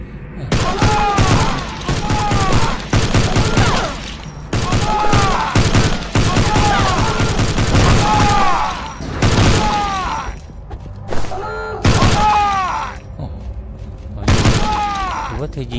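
Bursts of gunfire from the zombie shooter Silver Bullet Prometheus crack in loud, rapid volleys with short gaps between them, and talk runs underneath.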